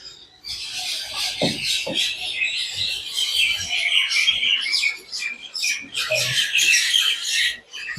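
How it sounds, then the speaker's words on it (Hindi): A small bird, known locally as the jhagdoniya, chirps loudly and almost without pause in rapid, scratchy bursts close by, with a few faint low knocks underneath. "गजब चाव चाव कर रही है नहीं, झगड़ोनिया चिड़िया कहते इसको।"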